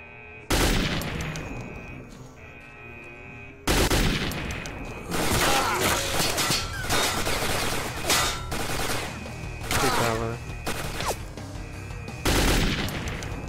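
Gunfire in STALKER Clear Sky with the Arsenal Overhaul mod while shooting zombies: loud automatic bursts and single shots in rapid, uneven volleys, broken by short pauses.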